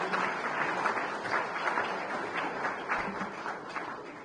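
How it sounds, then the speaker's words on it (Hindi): An audience at a cultural program of a diaspora gathering in Rajasthan claps steadily in dense, fairly quiet applause that holds at a level wash for several seconds. "तालियों से स्वागत करें।"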